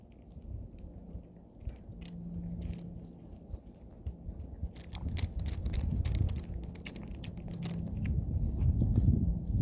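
A cat eats food outdoors in cold weather, with soft irregular chewing and crunching close by, growing busier toward the end over a low background rumble.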